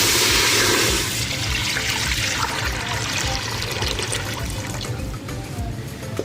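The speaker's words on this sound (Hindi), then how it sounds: "छः ग्लास इसमें हमने पानी के ऐड किए।" Water pouring into a pressure cooker set on a stove for boiling white chickpeas: a loud rushing splash at the start, then a steadier, quieter gurgling flow continuing for several seconds.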